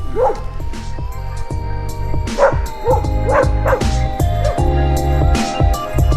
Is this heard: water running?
no